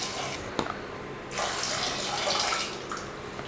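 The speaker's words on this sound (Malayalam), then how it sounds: "ഇനി ഇതിലേക്ക് ഈ ഒരു ചേമ്പിൻ്റെ തൊട്ട് മുകളിലായിട്ട് നിൽക്കുന്ന രീതിയിൽ വെള്ളം ഒഴിക്കുക." Water is poured from a vessel into a cooking pot of cut taro root for a Kerala chembu curry, a brief knock followed by a steady gushing pour that runs continuously to the end, with no talking.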